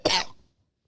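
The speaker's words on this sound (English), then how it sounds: "I just coughed something up." A single sharp cough, close and fairly loud, bursting out abruptly and trailing off within half a second, followed by silence.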